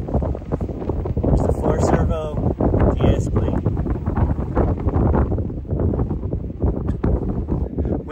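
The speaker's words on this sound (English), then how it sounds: "Winds are out of the west to northwest at 13 miles an hour sustained, gusting to 26." Gusty west-northwest wind buffets the microphone outdoors at an RC glider flying site, a loud, continuous rumbling roar with a person talking over it.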